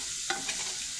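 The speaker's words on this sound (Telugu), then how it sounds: "పోపు వేసేసి ఆనియన్స్ వేసి" Chopped onions sizzle as they are stirred into a hot tempering of oil and spices, a brief soft hiss with a couple of light scraping clicks, close and alone without talk.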